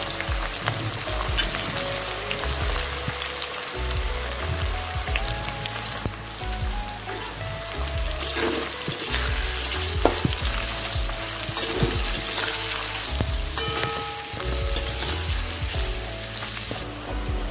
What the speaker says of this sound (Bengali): বেরেস্তাটা ভাজার সময় আঁচটা মিডিয়ামে রাখবো।